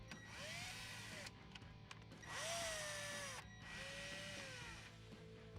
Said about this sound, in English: Now remove the 4 7mm screws around the outside of the display.